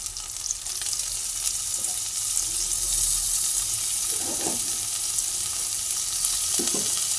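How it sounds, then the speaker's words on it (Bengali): Chopped ginger frying in a pan with spices for a Bengali potato and cauliflower dish, a steady close sizzle throughout with a couple of brief stirring scrapes. "এই যে আদা কুচিটা আমি এবার দিয়ে দেবো।"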